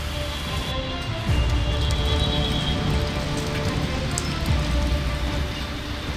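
Winter rain pours steadily onto Dasharath Stadium in Kathmandu, a dense continuous patter of drops on surfaces that stays loud throughout.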